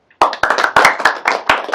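A lecture audience applauds guests in a chemistry class, with a short burst of close, irregular hand claps that starts abruptly and carries on at a steady level.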